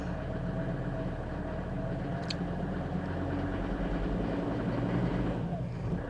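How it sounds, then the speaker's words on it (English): A Mercedes-Benz W126 300SD's OM617 diesel engine runs with a steady low rumble and clatter, swelling slightly as throttle rises slowly, heard from near the car. "I'm going to gradually increase the throttle"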